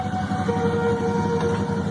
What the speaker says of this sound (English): Train being driven by nobody.